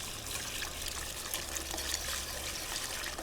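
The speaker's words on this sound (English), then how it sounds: "milk looks like it's hot, just under simmering. Just gonna pour it in." Hot milk, just under a simmer, pours into a flour roux for white sauce: a steady, close liquid trickle and splash that runs without a break.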